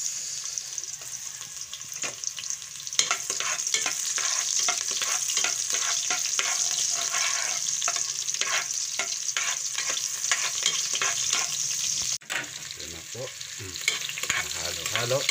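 Chopped garlic and onion sizzle in a hot pan while being stirred, for a Filipino coconut-milk crab and squash dish. The frying is steady, with repeated scraping strokes, and there is no talk.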